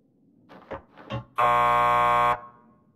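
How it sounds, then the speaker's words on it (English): A door buzzer from the video game Max Payne 2 sounds with one loud, flat electric buzz lasting about a second, preceded by a few faint soft knocks or footsteps in an otherwise quiet space. "Just press the buzzer by the door."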